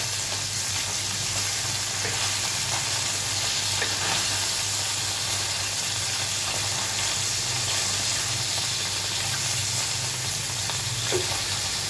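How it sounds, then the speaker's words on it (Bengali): Soft baila river fish frying in a hot pan, a loud, continuous close-up sizzle with spitting oil that holds steady throughout, with no voices. "যাতে মাছের বাইরের অংশটা খুব তাড়াতাড়ি ভাজা হয়ে যায়"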